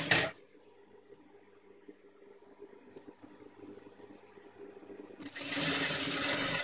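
A sewing machine stitches a pocket face to face with lace trim, giving a quiet, steady mechanical whir for about five seconds before a louder burst of rustling fabric handling.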